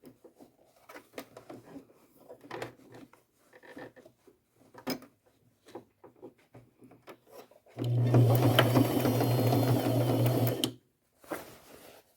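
Quiet clicks and handling noises, then a loud sewing machine with its front plate removed stitching jeans runs steadily for about three seconds before stopping, followed by a few more small clicks.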